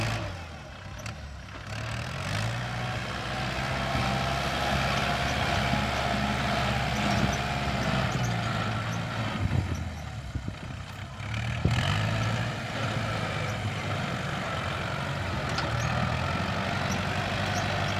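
A farm tractor's engine runs steadily at a moderate distance, a continuous low rumble with a slight dip in the middle, and no voices.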